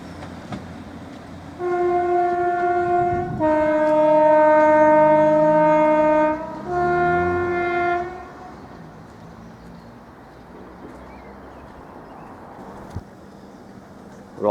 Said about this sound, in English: 156402 just departed, continuing its journey to Ipswich